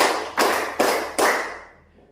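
Three sharp hand claps at an even pace in a classroom, each ringing out briefly in a roomy space and trailing off, with no talking.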